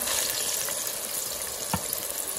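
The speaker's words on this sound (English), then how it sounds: "So let this fry for 4 minutes" Plantains frying in oil in a stainless steel pan, a continuous bright sizzle with one brief sharp pop or clink near the end, close and alone without talk.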